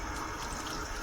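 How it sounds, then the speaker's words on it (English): Food being rinsed under a running kitchen tap, a short, steady splashing rush of water at moderate volume with no speech. "I'm going to rinse these off"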